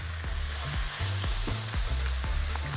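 Onions and garlic frying in ghee for an eggplant, potato and meat dish: a steady close sizzle with regular low knocks of stirring throughout, no voices.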